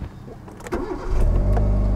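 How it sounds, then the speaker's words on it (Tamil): A car engine cranks briefly and then catches, settling into a steady, close idle with a low rumble while the car is readied for a long drive. "இன்ஜினை வந்து ஸ்டார்ட் பண்ணுறோம்."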